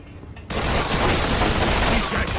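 Gunfire in the Mafia 2 video game, loud dense shots and booms filling the scene after a quiet half-second opening, with continuous broadband crackle throughout.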